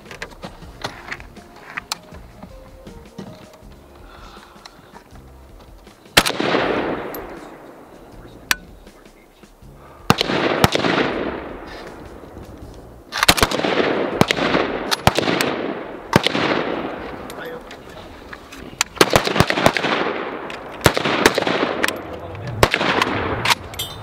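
AK-47 rifles firing single sighted rounds at a center diamond target on an outdoor training range. Sharp, loud reports ring out irregularly, several shooters overlapping, with a quiet stretch before the first shot and brief echoing decay after each.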